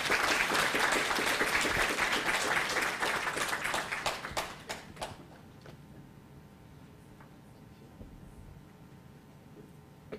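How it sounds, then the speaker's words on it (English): Applause at an international pharmacy conference welcomes a university president, a full round of many hands clapping for about five seconds before thinning out to a few scattered claps and a quiet room. "Let's give him a round of applause."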